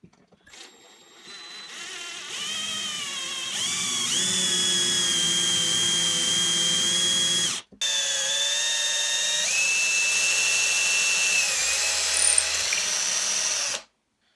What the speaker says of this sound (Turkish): Şimdi bu belirlemiş olduğum deliklerden matkap yardımıyla deleyim.